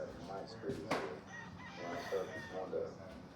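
A rooster crows in short bursts amid background farmyard noise, with a faint clucking texture; moderately distant and not very loud.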